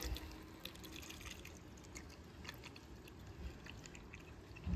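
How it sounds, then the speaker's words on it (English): Warm water pours from a baby bottle water warmer into a baby bottle, a faint, steady trickling splash running throughout with a slight rise at the end, no talk. "And I'm gonna go ahead and pour."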